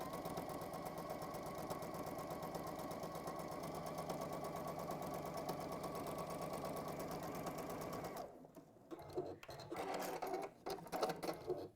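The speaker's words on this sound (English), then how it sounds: "I do love how this machine just always sews straight." A domestic sewing machine runs a steady, fast whirring seam through fabric cut on the bias for a bird-shaped cushion, then stops after about eight seconds, leaving quieter handling and rustling noises.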